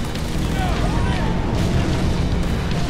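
Grenade blasts and combat noise in Halo: ODST, a loud continuous roar of booms and gunfire mixed with whooshing, rising whistles, and voices underneath.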